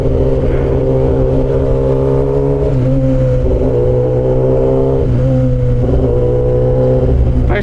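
A 1000cc motorcycle engine revving in first gear, loud and close, with repeated rises and falls in pitch as the throttle opens and eases, a continuous heavy drone with no talk.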